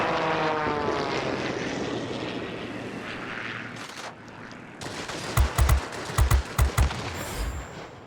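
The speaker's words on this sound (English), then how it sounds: "There's a Typhoon. It looks like it's coming right at us." Typhoon fighter aircraft in a combat video game, with a steady engine drone fading down and then bursts of rapid gunfire pops.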